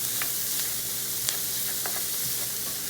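Sausage, onions, garlic and peppers crisp in a hot pan for a breakfast hash, giving a continuous close sizzle broken by a few faint ticks and pops.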